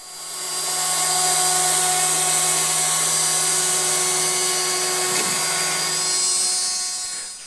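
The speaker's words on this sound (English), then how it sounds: "A finishing pass followed with the same bit in order to refine and smooth the radius." An X-Carve CNC router makes a finishing pass over a guitar fretboard, a sustained high whine with a steady tonal hum that holds evenly for several seconds before tapering off.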